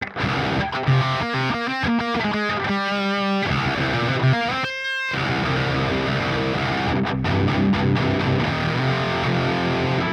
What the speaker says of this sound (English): when you dime the grind and then run it into a backed off distortion, it feels like more like a fuzz